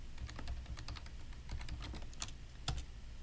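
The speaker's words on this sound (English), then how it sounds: "We'll type in the name of our server" Computer keyboard typing as a SQL Server 2016 server name is entered: a quick, irregular run of close, crisp keystrokes over a few seconds, with no voices.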